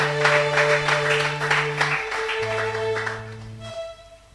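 Church congregation applauding in a sustained wash of clapping over a steady organ or keyboard chord, moderately loud and continuous throughout before tapering at the end.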